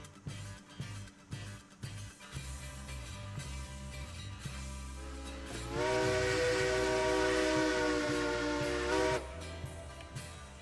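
Steam locomotive whistle in the railroad game Railroads Online, a loud multi-tone blast lasting about three seconds over the chuffing and rumble of the train.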